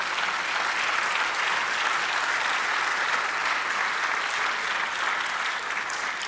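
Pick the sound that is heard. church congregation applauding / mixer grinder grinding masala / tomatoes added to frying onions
church congregation applauding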